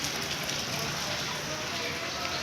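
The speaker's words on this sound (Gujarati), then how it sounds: "ઝરમર વરસાદ પડી રહ્યો છે." Light drizzle falls steadily outdoors near a small home garden, a soft continuous hiss of fine rain with no distinct drops or other sounds standing out.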